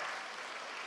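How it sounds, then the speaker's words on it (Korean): A church congregation claps loudly and steadily throughout, dense broadband applause filling the whole moment during a Sunday afternoon worship service. "박수 치려면 세게 좀 쳐요."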